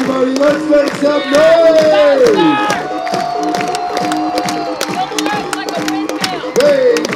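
Live audience at the Tommy Bartlett Show roaring and cheering loudly, with high children's shouts and whoops rising over a steady crowd din and scattered clapping throughout.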